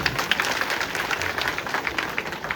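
An audience claps together at a swamiji's religious discourse, making a dense, continuous burst of applause that stays even throughout.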